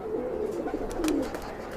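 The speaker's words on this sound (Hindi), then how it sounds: "बहुत अच्छी कबूतरी है" A female Madrasi pigeon gives a low, throaty coo that rolls on for a couple of seconds, close by, with faint background noise around it.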